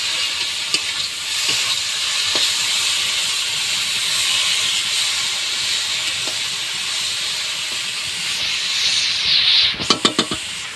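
Palm fruit pulp fries in oil in a pan with sugar added, giving a steady, even sizzling hiss throughout, scattered light utensil taps, and a quick cluster of clicks near the end.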